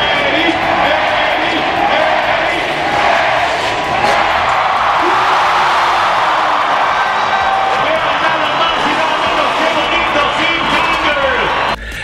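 Large crowd at a Red Bull X-Fighters freestyle motocross event cheering and applauding a local rider, a steady loud roar of voices and clapping that fills the whole stretch without a break.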